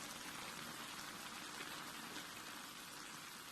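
Japanese-style beef and potato stew simmering in a pot on medium-low heat gives a soft, even, continuous bubbling hiss, faint and close, with no voices.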